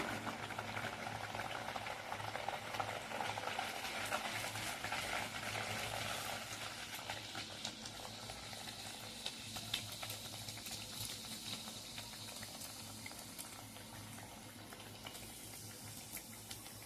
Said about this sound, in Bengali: একটাও ভেজে আপনাদের দেখিয়ে দিচ্ছি।